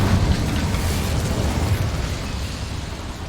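An Incendio fire spell in Hogwarts Legacy bursts into a loud, roaring blast that holds as a dense, crackling rush for several seconds, with no voices.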